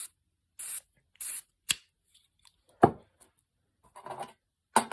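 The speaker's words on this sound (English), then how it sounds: "you just want to spray WD-40 all over it" WD-40 sprayed onto plastic RC car parts comes in several short, crisp hissing bursts, with rubbing and handling noises between them in an otherwise quiet room.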